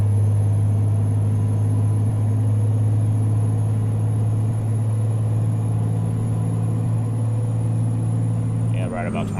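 A deep, steady Freightliner truck engine drone in the American Truck Simulator video game holds a constant low pitch throughout, loud and close, with a brief shift near the end.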